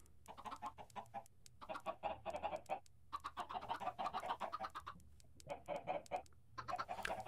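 Chickens in Minecraft cluck in quick, close bursts, short choppy clucks repeating in clusters with brief quiet gaps between.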